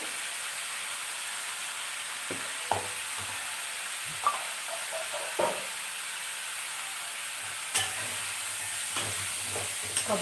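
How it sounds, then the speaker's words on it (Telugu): Dried grated coconut being stirred into a chili-spiced broad bean curry in a pan, a steady sizzle broken by several scraping stirs of the spoon, with no voices. "తురుము వేసి అలా కలిపేయడం"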